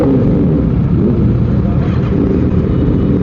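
A motorcycle with a loud aftermarket exhaust rumbles heavily and steadily up close, a dense low roar that continues throughout and swells slightly near the middle, heard during a night ride.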